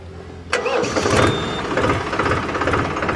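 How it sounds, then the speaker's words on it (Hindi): A Mahindra 275 DI TU PP tractor diesel engine cranks briefly and catches, then settles into a close, steady, smooth idle with a rhythmic chug. "अब मैं आपको इसको स्टार्ट करके इसकी आवाज़ भी सुनवा देता हूँ"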